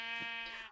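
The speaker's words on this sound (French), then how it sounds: "on a des copains moutons" A single short sheep bleat from the Minecraft video game, a clear nasal wavering call heard alone.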